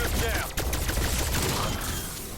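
Dense rapid automatic fire from the Rai K-84 rifle in Call of Duty: Cold War, loud and close. It comes as a continuous rattling burst that fills the whole moment with little let-up.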